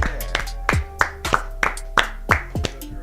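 A podcast host leads a round of applause: sharp hand claps land in a steady, evenly spaced rhythm over a low, tonal musical background, close and moderately loud, with no talking.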